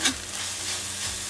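Ampalaya and corned tuna sizzle in a frying pan while a utensil stirs and scrapes through them, a few close clatters over steady hissing oil.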